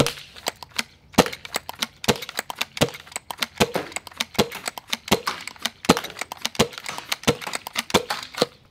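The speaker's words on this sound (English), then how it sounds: "The fastest way that I was able to cock the blaster for repeated firing was holding it similar to how you'd cock an AK." Swin Balance V2 bolt-action Nerf sniper blaster cocked and fired in rapid succession, a sharp string of clacking bolt pulls and snappy shots in quick irregular rhythm, close and loud with no talking.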